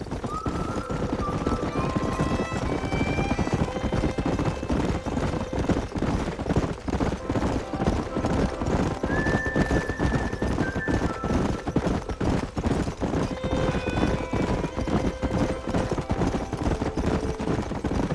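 Horses gallop through a Red Dead Redemption ride, steady clip-clop hoofbeats pounding throughout with whinnies and neighs rising above, and occasional gunfire crackling in the background.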